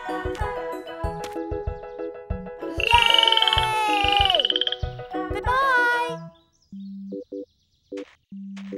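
A cartoon frog croaks repeatedly over bright, tinkling children's music, with shifting squeaky tones followed by a few spaced beeping notes.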